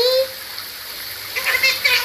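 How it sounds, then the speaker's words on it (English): Water splashes and sprays steadily as a pet gets a shower, with a brief high tone at the start and clearer splashing bursts near the end; no speech heard. "You want a big shower?"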